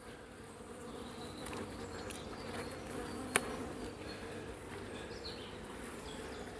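Honeybees buzz steadily around an open hive during a late-winter colony inspection, a dense continuous drone close by with one brief sharp click partway through.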